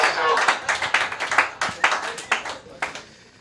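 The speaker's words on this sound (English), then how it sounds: "At the applause that I got from some of you" An audience at a comedy roast breaks into scattered, uneven clapping, loud and close, with a few voices mixed in before it thins out.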